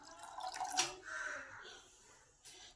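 Water poured over green peas in a pressure cooker, a soft splashing trickle that swells and then tapers off, fairly faint and close by.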